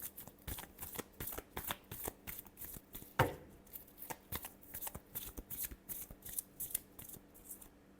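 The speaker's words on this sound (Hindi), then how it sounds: "last shuffle" A tarot deck being shuffled in a final shuffle for an Aquarius reading: a steady run of crisp, rapid card riffles and slaps close to the mic, with one sharper snap in the middle and no talking.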